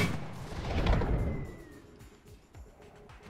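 Gunshots fired at targets in a field ring out as a sharp report followed by a long rolling echo that fades across open ground, with a fainter second shot and distant outdoor ambience afterward.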